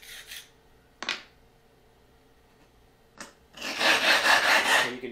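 A sharpening stone rubbed on a coarse 400 grit glass lapping plate, giving short scraping strokes followed by a longer, louder gritty rasping pass, close and with no talk.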